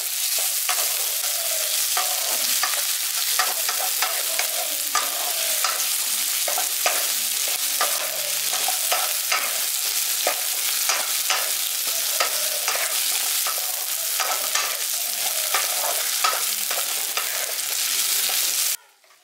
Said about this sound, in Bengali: আলুটাকেও পেঁয়াজের সঙ্গে ভেজে নিচ্ছি।